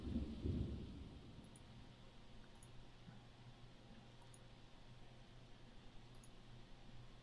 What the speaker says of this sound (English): Well, luckily it's raining.